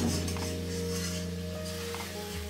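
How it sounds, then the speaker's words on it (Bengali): Potatoes slowly sautéed in a pan over low gas for Bengali mutton curry, a steady soft sizzle with occasional faint scraping, close and even throughout. "আলুগুলোকে দিয়ে এইভাবে কষাতে হবে"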